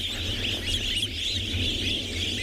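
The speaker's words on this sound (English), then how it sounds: "an absolute eruption of noise around us from these wonderful wattled starlings" Wattled starlings massed at their breeding colony on a dawn safari, an unbroken wash of shrill chatter and squeaks from countless birds, close and loud on all sides, with no voices over it.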